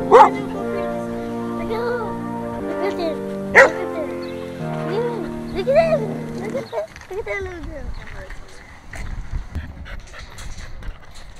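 A young puppy yips, barks and whimpers in high, wavering cries, close by, while people talk over and between the sounds in a busy household.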